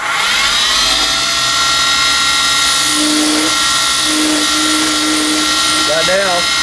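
Wood lathe spinning while a tool shapes the bottom of a teardrop bottle stopper down to the mandrel: loud, steady high whine with shifting tones from the cut, and a voice talks over it.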